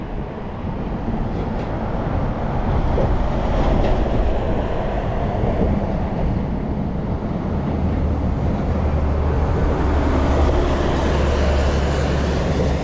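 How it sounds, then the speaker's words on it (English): Freight train being loaded by a crane at Southampton Dock, a steady rumbling rail and dock din heard from a distance with a low continuous drone and faint clattering throughout, no voices. "There's the crane loading the train up."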